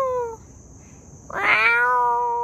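A person imitates a cat with a drawn-out, high, rising meow, one clear loud call after a brief earlier tone, with no other talk.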